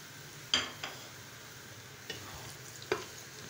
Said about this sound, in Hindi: प्याज हमें सिर्फ इस तरह की फ्राई करनी है, ये देखें